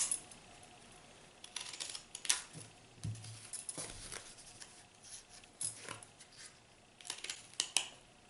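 Scissors snip through paper petals for a paper flower, a quiet series of short crisp cuts at irregular intervals, close by.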